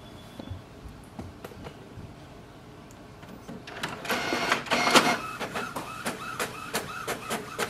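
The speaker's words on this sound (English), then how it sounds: "it has printed the Windows printer test page" Epson WorkForce WF-4820 printer printing a Windows test page: after a quiet start, loud mechanical whirring and feeding noise builds, then settles into a rhythmic series of repeated clicks and sweeps from the print head.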